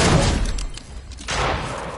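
Fortnite arena match with a Striker pump shotgun firing: a loud blast at the start fades out, and a second heavy boom lands near the middle.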